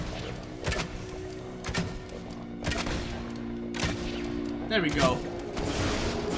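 Gunshots from the video game Fable 2, several sharp broadband cracks spaced through the clip over game music, with someone talking between shots.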